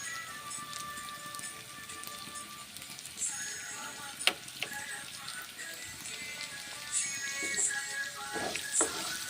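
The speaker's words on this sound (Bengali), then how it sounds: "তিন মিনিট ভেজে নিচ্ছি। তারপর মিক্স মশলা দিচ্ছি" Spices sizzling and frying in a pan for a moong dal and papaya curry, a continuous close crackle with a few sharp utensil knocks partway through.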